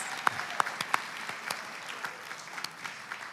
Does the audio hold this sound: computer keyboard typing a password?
no